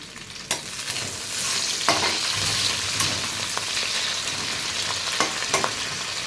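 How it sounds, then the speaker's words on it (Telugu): Curry leaves fry in hot oil for pulao while being stirred: a steady close sizzle runs throughout, broken by several sharp scraping clicks of the spoon against the pan, with no voices. "ఇప్పుడు నేను కొంచెం కరివేపాకు వేస్తున్నానండి"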